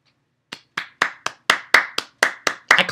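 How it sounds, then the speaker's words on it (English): One person claps their hands about a dozen times in a fairly steady rhythm, close and crisp. The claps grow slightly quicker and overlap at the end, and no one speaks. "I clap my hands, yes."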